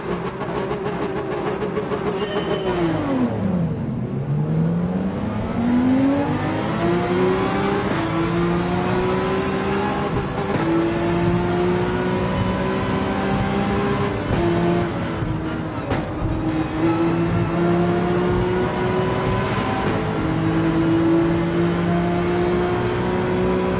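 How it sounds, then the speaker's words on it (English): A Corvette and a Porsche race car accelerating together in Gran Turismo 7 on the Nürburgring, a loud sustained engine drone that dips at a gear change and then climbs steadily in pitch for over twenty seconds, with no talk. "Drag race with the Corvette beside us"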